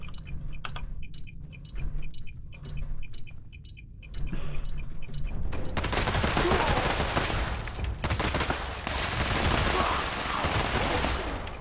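Sparse clicks and shots give way to continuous loud automatic gunfire in a Fallout 76 firefight, a dense sustained barrage filling the second half with no clear talk over it.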